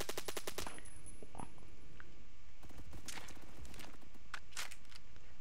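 Video game gunfire: a rapid burst of automatic shots opens, followed by scattered single shots and further bursts, crisp and fairly loud, with no talking.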